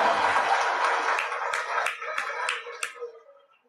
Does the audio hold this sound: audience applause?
yes